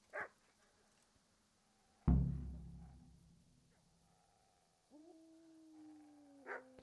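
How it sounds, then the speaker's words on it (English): Dog heard in the video game Kingdom Come: Deliverance, one deep muffled bark followed by a lingering low tail, then a drawn-out tonal hoot or howl, faint and distant over quiet ambience. "Is there a dog here?"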